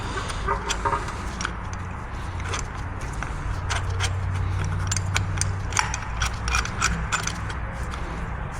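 A caliper piston tool is wound clockwise to push a Honda Civic brake piston back into its bore, giving a steady run of small ratcheting, mechanical clicks and scrapes close up, with no talk.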